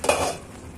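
Loitta shutki and pui shak cooking in a pan, a brief burst of scraping and sizzling that quickly fades to a quiet hiss.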